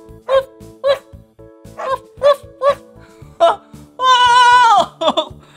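A voice imitates a small dog's barking for a children's craft toy: a run of short, bright woofs and yips, then one longer whining cry near the end, over faint background noise.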